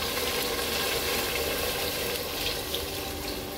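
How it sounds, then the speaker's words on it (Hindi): Water pours steadily into a pot of pea and mutton curry (matar gosht), a continuous broad splashing rush that stays loud and even throughout, with no voices. "तो अब हम इसमें पानी डालेंगे।"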